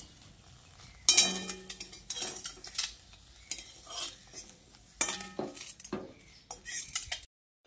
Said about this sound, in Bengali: এবার আমি এই বেগুনগুলোকে একটা পাত্রের মধ্যে তুলে নিচ্ছি